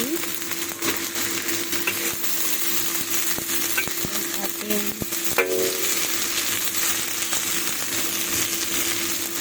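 Vegetables sizzle and fry steadily in rendered pork fat in a pan, a loud continuous crackle with occasional utensil clinks and stirring.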